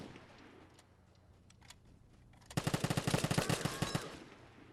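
Rapid bursts of automatic gunfire crackle loudly in the Vigor video game, sharp repeated shots in a sustained volley after a quieter ambient stretch with faint bird calls.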